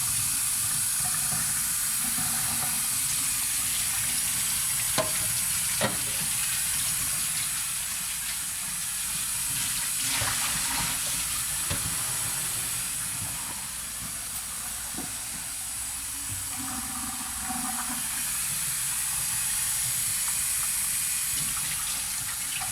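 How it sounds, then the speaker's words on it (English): Water runs steadily into a drain while developed film washes after fixing in homemade Caffenol processing, giving a constant, even hiss and splash throughout with faint clicks and bumps, and no one speaking. "That means this drain's gonna be running for 15 minutes."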